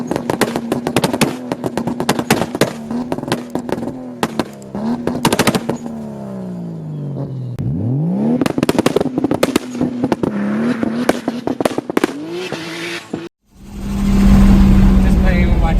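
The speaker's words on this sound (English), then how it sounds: "Just playing with my turbo." An 800 HP carbon-bodied Toyota Supra revs on a two-step launch limiter, giving off sharp crackling turbo pops and bangs. Rising engine sweeps follow, and the engine ends in a loud sustained roar, with a voice briefly heard.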